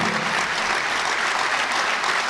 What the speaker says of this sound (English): I want us all to give him a round of applause